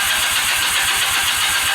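Honda CB250 motorcycle engine running steadily just after starting, a rapid even pulsing idle close by with a bright hiss on top, no voices.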